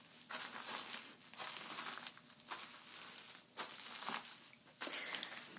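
Footsteps crunch over crunchy material spread on a plastic tarp, five or six slow, separate crinkling steps heard close but quiet, each one a short scratchy burst of crackle.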